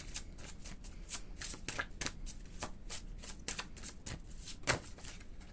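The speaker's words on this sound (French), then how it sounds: "Alors on va prendre une carte pour votre lien." A deck of oracle cards is handled as a card is drawn: quiet, close riffling and flicking with crisp little snaps throughout.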